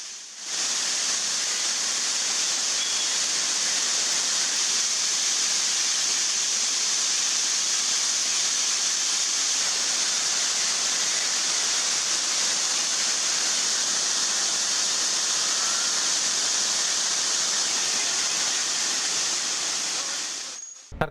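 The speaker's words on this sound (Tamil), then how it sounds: "தலையார் அருவி, வெள்ளி நீர்வீழ்ச்சி அருவி, வட்டக்கானல் அருவி உள்ளிட்ட பல்வேறு அருவிகளில் நீர் ஆர்ப்பரித்து கொட்டுகிறது" Waterfalls in Kodaikanal swollen after rain, with water crashing down: a loud, unbroken roaring rush that holds steady for about twenty seconds, with no voices heard.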